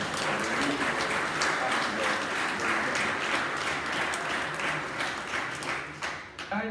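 Wedding ceremony audience applauding, a dense steady wash of many hands clapping that carries on for several seconds before tapering off at the end.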